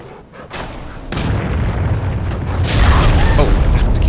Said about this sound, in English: Oh, I keep forgetting about the explosion part.